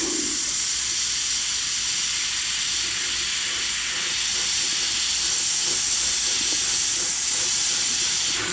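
A steady, close airy hiss of an airbrush spraying paint continues throughout, with faint low rumbles underneath.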